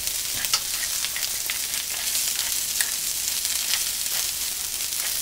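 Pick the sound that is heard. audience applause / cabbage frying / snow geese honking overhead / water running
cabbage frying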